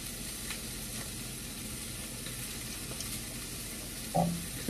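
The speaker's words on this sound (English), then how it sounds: "we're gonna go ahead and melt that up in the pan" Salted butter melting in a pan over a flame gives a steady, soft sizzle, with a brief clink near the end and no talking.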